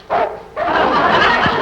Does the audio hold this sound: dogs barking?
yes